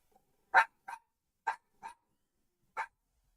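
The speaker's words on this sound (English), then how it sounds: "I gotta try to find dog toys to get her to stop barking at me." A dog barks indoors in five sharp, separate barks spread unevenly over a few seconds, close by and clear, with silence between them and no talking.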